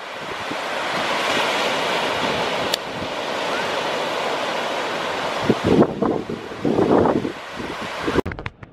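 Sea waves and steady wind roar continuously at a beach in Nicaragua, loud and close, with a few louder gusts or surges near the end and no talking.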